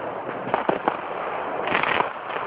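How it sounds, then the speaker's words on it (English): Fireworks pop in a rapid outdoor barrage, sharp crackling bursts coming in irregular clusters at a moderate distance, with no voices over them. "just straight up popping fireworks"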